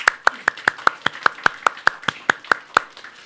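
A congregation in a church gives a round of thankful applause during a Sunday service, heard as a steady run of about fourteen crisp, evenly paced claps, loud and close, with no talking over them.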